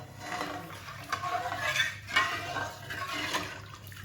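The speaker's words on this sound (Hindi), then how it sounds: "आंच करने के बाद आपने इसमें 1 गिलास दूध का ऐड करना है।" Milk pours steadily into a pot of jaggery syrup while cooking sweet rice, a continuous close liquid rush and splash with no talking.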